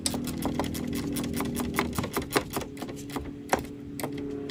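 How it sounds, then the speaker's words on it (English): Ratchet wrench tightening bolts during a power steering install on a Polaris Pioneer 500, a rapid run of sharp clicks close by that slows into a few separate clicks, with an engine-like hum underneath. "I'm going to use a wrench for the other 2 up top."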